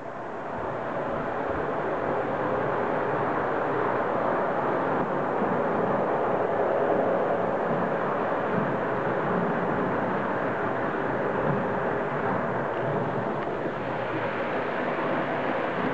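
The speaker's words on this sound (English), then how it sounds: "if I flip that switch, here comes the passenger train" A model passenger train runs along with a continuous, even mechanical rumble and hum, steady throughout with no voices.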